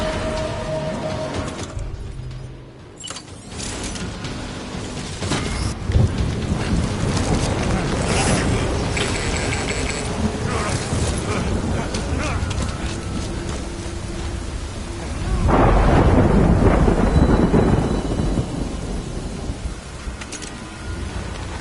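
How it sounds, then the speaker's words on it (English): Heavy rain pours steadily in the Death Stranding game world while deep thunder rumbles roll in the distance, swelling into a louder crash near the end. "Good thing it was raining."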